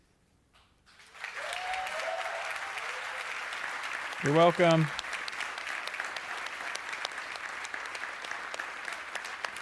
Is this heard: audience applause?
yes